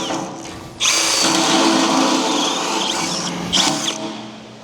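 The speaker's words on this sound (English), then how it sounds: "this is also another DeWalt bit" A DeWalt bit bores into a tractor bucket while fitting bolt-on hooks: after a brief quiet start, a loud, close, steady power-drill whine runs without a break, with a short surge near the end. No one speaks.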